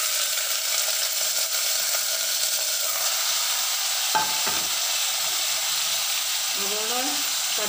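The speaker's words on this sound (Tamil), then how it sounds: "கறியை போட்டு கிண்டிக்கிறணும்." Mutton stirred in a spoonful of oil in a pan, a steady loud sizzle and hiss throughout with a few scraping stirs midway.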